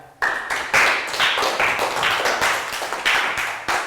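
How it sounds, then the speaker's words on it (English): A small class of young students claps for a classmate during a maths lesson. The clapping is close and uneven, made of distinct separate claps and short bursts rather than a smooth roar. "Round of applause for Pat."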